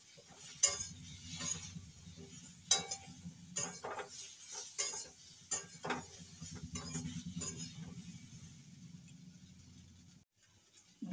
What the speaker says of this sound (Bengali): লাউ ডাঁটাকে দিয়ে 1 থেকে 2 মিনিট ভেজে নিয়ে আমি জল ঢেলে সিদ্ধ করে নেব সবজিগুলোকে